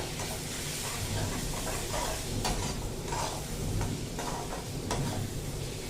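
Lavangi chilli paste sizzles in a pan on low gas while being stirred, a dense continuous close hiss and crackle with scraping strokes, no talking.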